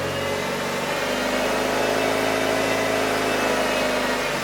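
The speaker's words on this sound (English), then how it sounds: "let's do a couple more revs" A Mitsubishi Evo 9 MR four-cylinder turbo engine, fitted with a new downpipe and test pipe, blips through short gentle revs, rising from idle into a loud, steady, raspy drone close by.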